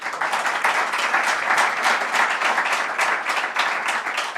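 Sustained audience applause at a business club event on cybersecurity in Mallorca, dense and steady clapping from a crowd filling the room throughout, with no voices over it.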